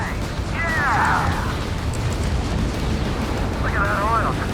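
Rolling, continuous explosions in the Ace Combat 7 video game as a pipeline is destroyed, a dense low rumble sustained throughout with brief swooping tonal effects near the start and end, while a person talks over it.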